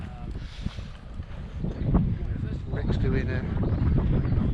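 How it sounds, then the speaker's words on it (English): Wind rumbles and buffets the microphone steadily throughout at an outdoor campervan meetup, with people talking over it. "It's quite windy"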